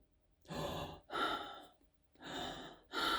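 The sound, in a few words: breathing on a recorded prank phone call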